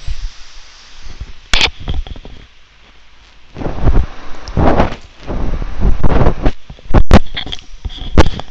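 In the Minecraft game, a thunderstorm plays on a castle map. Loud rumbling thunder swells repeatedly over steady rain hiss and wind, with a few sharp cracks standing out.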